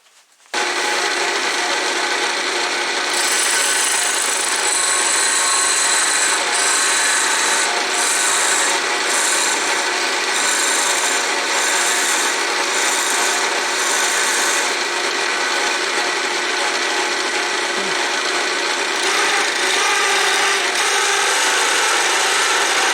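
A wood lathe parting off a lace bobbin, a loud continuous rasping, scraping cut on spinning wood that runs almost the entire time without speech.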